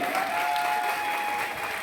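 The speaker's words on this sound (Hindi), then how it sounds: "मैं चाहता हूँ नाम लूं तो जरूर ताली बजाइएगा उनके लिए, श्री संजीव कुमार के लिए।" Continuous, dense audience applause fills a short stretch of a shop gathering in Sasaram, steady and close, with no talk over it.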